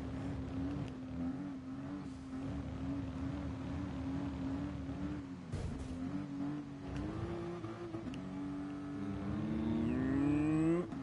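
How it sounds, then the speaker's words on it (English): Racing cars in a Polyphony Digital driving game hum steadily at a constant pitch, then rev up and climb in pitch toward the end, loud and continuous with no talking. "these engine sounds are really calming me"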